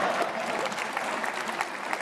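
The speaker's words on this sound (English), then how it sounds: "it definitely deserves a round of applause" A crowd claps at a political speech about the NHS in Manchester, a continuous, moderately loud patter of many hands, steady and unbroken from start to finish with no one speaking.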